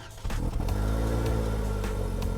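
A 2019 Toyota Corolla XSE hatchback's naturally aspirated 2-liter 4-cylinder engine runs with a steady, close, even hum and a low harmonic drone, holding a constant pitch after a brief quieter start.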